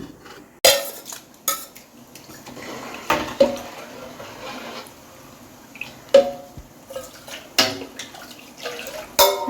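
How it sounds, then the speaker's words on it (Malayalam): Washed Kaima rice is tipped into a pot for beef dum biryani, with scattered clinks of a metal pot and utensils and faint wet shuffling, close by and with no talk. "അരി ഇട്ട് കൊടുത്തിട്ടുണ്ടല്ലോ. ഇത് കൈമാ റൈസ്"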